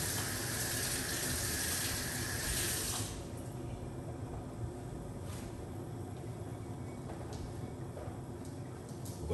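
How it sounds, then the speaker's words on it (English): A pot of ripe banana peel and cinnamon tea boils with a steady watery rushing hiss, louder for the first few seconds and then settling to a softer continuous bubbling. "Yeah, we're gonna let that boil up."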